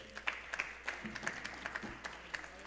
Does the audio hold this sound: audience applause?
yes